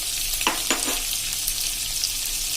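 A chili and besan flour mixture sizzles in a pan over a medium gas flame, giving a steady hiss with a couple of faint stirring scrapes near the start, close and with no voices.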